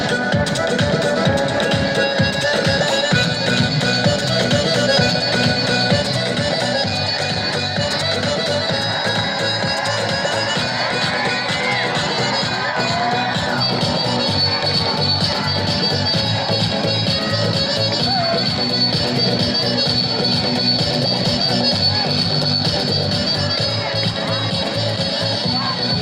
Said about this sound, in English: Please have a huge round of applause for them.